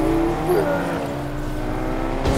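Video game car driving, a steady engine drone with tonal hum held throughout at moderate loudness, with no speech over it.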